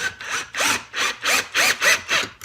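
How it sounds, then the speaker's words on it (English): A SnapFresh 20V cordless drill driver sinks a screw into a piece of wood in a series of about seven short, even whirring bursts with brief pauses between, close and fairly loud, no talking. "I'm just drilling it straight into the piece of wood"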